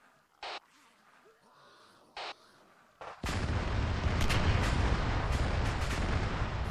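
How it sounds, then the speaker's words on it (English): A video game explosion blasts in suddenly after a few sharp clicks and taps, then a loud sustained roar of debris and rumble fills the rest of the moment. "Right, fire in the hole, Tom."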